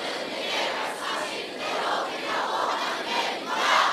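A church congregation on the second floor shouting together loudly, a dense crowd roar of many voices rising and swelling in waves, sustained and close for a few seconds.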